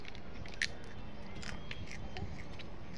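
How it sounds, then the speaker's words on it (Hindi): A child eats Kurkure crunchy snack indoors, giving a few soft crunching bites, one sharper crackle near the start, over low background noise. "कुरकुरे खा रहा है"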